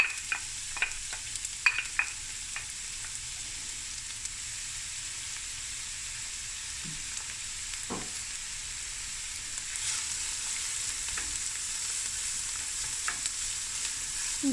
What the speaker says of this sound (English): the onions is frying away